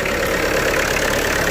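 A worn, oil-leaking car engine with 400,000 on the clock idles loudly and steadily with a rough, slightly knocking tone, close by and alone.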